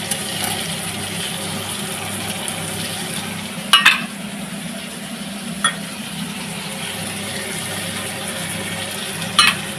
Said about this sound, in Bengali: ভালো করে কষিয়ে দেবো